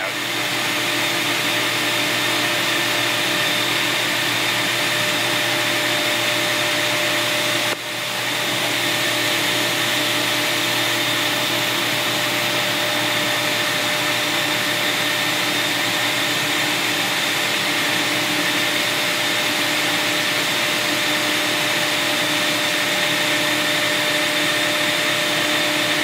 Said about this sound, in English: The knife comes down, and the knife is now cutting